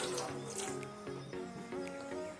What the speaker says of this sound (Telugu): ఇప్పుడు మనము హాఫ్ కప్ వాటర్ యాడ్ చేద్దామండి.